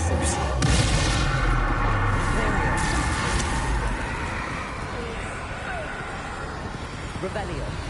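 Bombarda and Confringo spells detonate in Hogwarts Legacy, a dense rolling barrage of booming blasts and crackles that stays loud throughout and slowly eases off, with no talking.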